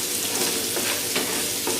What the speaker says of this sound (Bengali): টমেটোটা একটু ভাজা ভাজা হলে